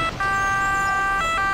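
An ambulance siren from the Emergency 4 video game, Rome/Italy mod, wails in steady sustained tones, fairly loud and close, with no talking over it.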